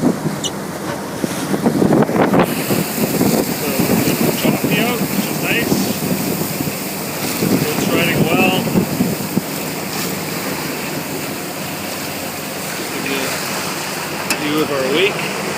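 A diesel trawler cruising through choppy water on a trip back from False Creek, with steady low engine drone, wave slap and heavy wind buffeting the microphone throughout, while people talk over it.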